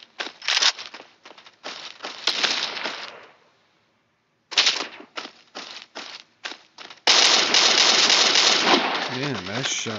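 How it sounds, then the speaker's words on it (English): Rapid bursts of shotgun fire in the Warface video game, loud and close, come in clusters with a short silent gap. A continuous noisy stretch follows, and a voice talks partway through. "Damn, that's shotgun shot."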